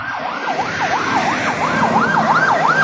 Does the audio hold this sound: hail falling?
no